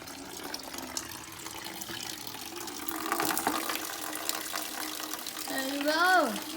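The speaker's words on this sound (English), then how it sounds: "we have an operational tap" Caravan tap running water in a steady rushing stream that grows louder toward the end, with a voice and a brief whistling tone near the close.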